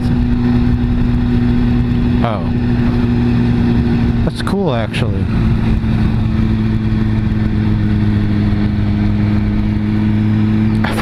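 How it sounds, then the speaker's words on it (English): A small moped engine, around 50 or 150 cc, drones loudly and steadily, with a couple of quick whooshing passes as it goes by; a voice briefly comments. "I think it is a moped."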